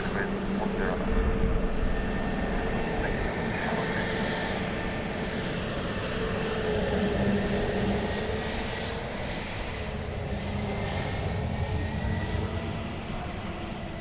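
An Aer Lingus airliner arrives from Brussels at Dublin Airport with a continuous broad engine roar that stays steady and fairly loud for the whole stretch. Radio chatter and talk run faintly underneath.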